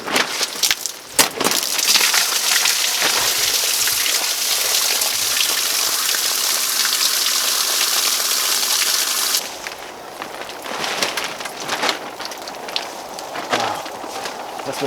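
Trapped rainwater pouring out of the roof of a Honda Pioneer 520 side-by-side, a loud continuous splashing gush that cuts off abruptly partway through, leaving scattered drips and trickles.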